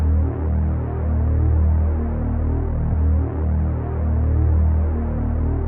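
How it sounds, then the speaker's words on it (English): Bass line in FL Studio sustaining a single root note as a deep, steady low drone with gentle pulsing swells, heard alone with no voices. "the last sound I've added was this bass"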